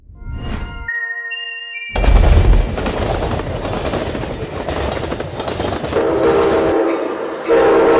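Passenger trains on a railway, opening with a loud horn blast, then a close roaring rumble of wheels and clattering cars, with a steady horn tone returning near the end.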